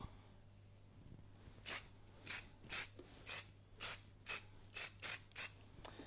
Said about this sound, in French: c'est un spray velours qui s'utilise sans préchauffage